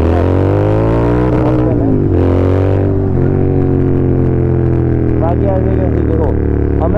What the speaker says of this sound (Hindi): इसमें आपको आवाज़ कब आती है क्रैकर्स की, जब मैं थ्रोटल छोड़ देता हूँ तब ये पॉपअप करते हैं।